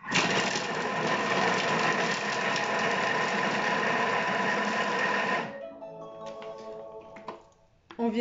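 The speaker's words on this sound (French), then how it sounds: "on va hacher 5 secondes vitesse 5" A Thermomix chops at speed 5 with a loud, steady motor whir and rattle for about five seconds. It cuts off abruptly, leaving faint clicks and a fading mechanical tail.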